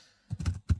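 A quick burst of three or four soft keystrokes on a computer keyboard, typed into notepad, close and alone in a short moment.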